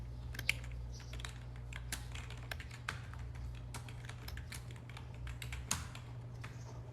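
Fingers type a search query on a computer keyboard, producing a steady, close run of light plastic key clicks with irregular rhythm and a few sharper taps, over a constant low electrical hum.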